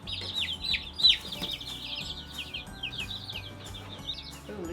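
A batch of young chicks, including Cornish, peeps continuously in high, busy chirps, close by, over a faint low background rumble.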